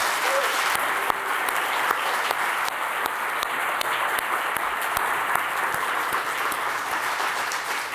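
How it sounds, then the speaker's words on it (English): Steady applause from an audience at an awards ceremony, given for the staff who ran the evening. It is dense and sustained throughout, with many overlapping claps at an even loudness and no voices standing out. "I'd like everybody to give a round of applause for the entire staff who put on tonight's ceremony."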